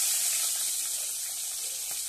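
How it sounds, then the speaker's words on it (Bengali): Potatoes frying in oil in a pan while a prawn-head curry is prepared, a steady close sizzle and hiss running evenly throughout with no talk. "তেলে আলুগুলোকে ভেজে নিচ্ছি ভালো করে একটু"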